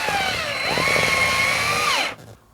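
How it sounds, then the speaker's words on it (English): A cordless drill drives a screw into drywall to mount a smoke detector, a steady whining motor lasting about two seconds before cutting off abruptly. "These seem to drill into the drywall fairly good."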